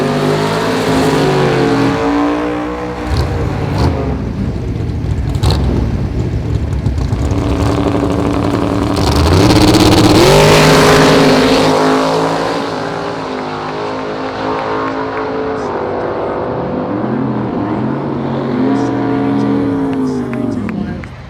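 Drag race car engine roaring loud and close throughout as it accelerates down the drag strip, pitch climbing and swelling to a peak midway before easing off, with people talking over it.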